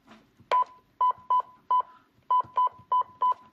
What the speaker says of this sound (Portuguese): Eu vou digitar, por exemplo, um número qualquer aqui.